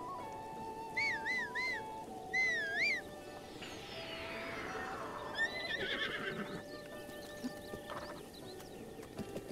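A horse in The Legend of Zelda: Breath of the Wild gives several short, bright neighs and whinnies over a steady ambient game background, with a faint swooping effect in between.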